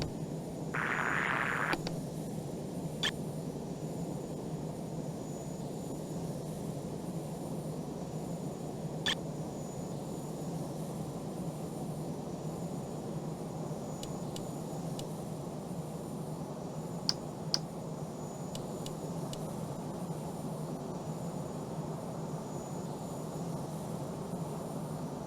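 Steady cockpit drone of an EF2000 Typhoon jet coming in to land in the flight sim Falcon 4 Allied Force, a constant broad engine roar with a few faint clicks and one short beep near the start.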